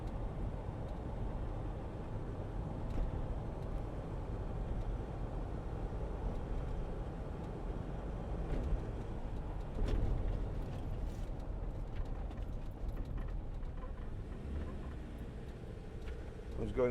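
Land Rover Defender 90 2.2 TDCi XS hard top, 2014, driving as it works up through fifth gear: a steady low diesel drone and road rumble fill the cabin, holding even throughout with a slight swell near the middle.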